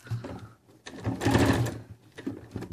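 Sewing machine stitching patchwork for a cushion cover, whirring in a short burst, pausing, then a longer steady run, followed by a few brief clicking starts, heard close.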